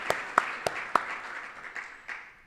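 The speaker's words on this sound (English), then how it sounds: "let's give another round of applause to our EMS and Fire Department first responders" A few loud, separate claps ring out at a State of the City address, honoring EMS and fire department first responders. Thinner, scattered clapping follows and fades within a couple of seconds.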